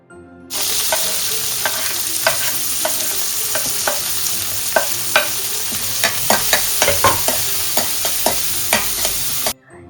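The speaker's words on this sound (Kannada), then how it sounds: "ಬೆಳ್ಳುಳ್ಳಿ, ಹಾಗೆ ಹಸಿಮೆಣಸು, ಇನ್ನು ಈರುಳ್ಳಿ ಕೂಡ ಹಾಕಿ ಚೆನ್ನಾಗಿ ಇದನ್ನು ಮೊದಲಿಗೆ ಫ್ರೈ ಮಾಡ್ಕೊಳ್ತೀನಿ" Garlic, green chili and onion fry in cumin-flavoured oil, a loud close sizzle that starts abruptly and runs steadily, punctuated by repeated sharp spatula scrapes and taps against the pan, then cuts off at the end.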